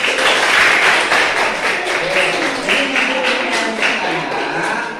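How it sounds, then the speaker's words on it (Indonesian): Class of participants clapping for the winning first group in a classroom session, moderately loud clapping with some voices mixed in. "Tepuk tangan untuk grup pertama"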